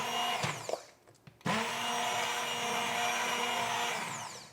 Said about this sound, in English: Start to move your blender through it while it's blending.